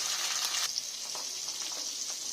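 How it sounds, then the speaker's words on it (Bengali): Fish frying in oil in a kadai makes a soft, steady sizzle and crackle close by, faint and with no voices. "মাছগুলো আমি কড়াতে দিয়ে দিলাম। মাছটা ততক্ষণ ভাজা হোক।"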